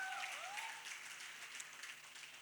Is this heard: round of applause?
yes